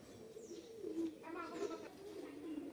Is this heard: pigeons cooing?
yes